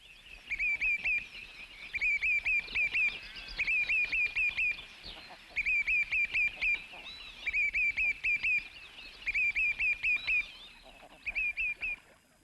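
Mallard ducks on North Uist give loud, close bursts of rapid quacking, several quick calls per burst, repeated in regular bouts with short pauses between.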